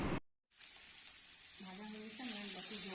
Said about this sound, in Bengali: এরপর ভেজে রাখা আলু কাঁঠালগুলো আস্তে আস্তে ছেড়ে দিলাম